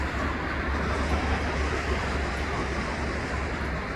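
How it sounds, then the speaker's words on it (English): The Bunnell local rock train, a freight train, passes as a steady rumble and rolling roar that holds even and fairly near for the whole stretch, with low heavy tones and a hiss of wheels. "that's the Bunnell local, the rock train"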